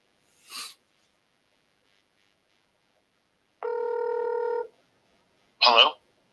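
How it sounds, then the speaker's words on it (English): A telephone ring tone plays once over a speakerphone, a steady buzzy burst lasting about a second, with brief breathy noises before and after it. "It's ringing."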